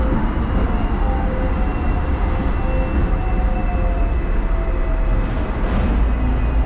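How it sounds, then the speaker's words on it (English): A Hong Kong tram running, its steady rumble and rattle of wheels on rails heard from inside the car as a continuous, fairly loud drone with no talk. "Apparently the locals call this tram system the ding ding."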